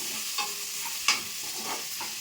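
Spices for a cucumber chutney tempering as they fry in hot oil, giving a steady close sizzle with a few brief louder pops and crackles, no voices.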